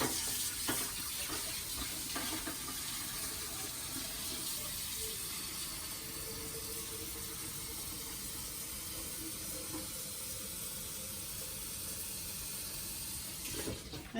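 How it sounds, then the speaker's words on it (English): Tap water runs steadily into a pitcher in a home kitchen for about fourteen seconds, a continuous close hiss and splash with no talking. "I'm gonna get 4 more cups of water"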